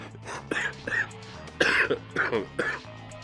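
A person coughing repeatedly in short harsh bursts, about six or seven coughs and throat-clearing sounds spaced unevenly, close and fairly loud.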